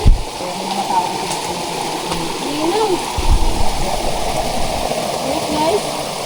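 Clear stream water rushes steadily over slippery rocks, a continuous close wash with a person talking over it.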